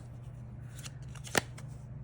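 A tarot card deck being shuffled, quiet riffling and sliding of cards with a brief sharper snap near the end, close by and soft over a steady low background hum.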